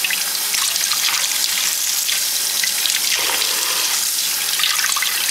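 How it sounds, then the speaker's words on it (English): Lukewarm tap water runs steadily over hand-dyed yarn dyed with food coloring, a continuous close hiss and splash with no voices. "We are going to come over here and rinse this in lukewarm water."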